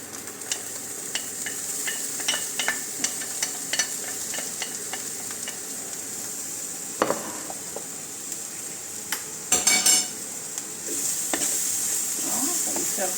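Onions and garlic sauté in a pan with a steady, close sizzle and hiss. Scattered clicks and scrapes of stirring cut through, with a few louder clatters near the end.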